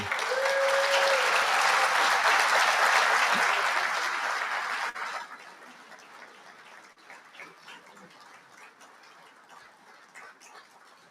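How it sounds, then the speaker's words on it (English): Audience applause at a military awards dinner, loud sustained clapping from a crowd that fades out about halfway, leaving quieter room noise. "Ladies and gentlemen, a round of applause for Gunnery Sergeant Ritchie."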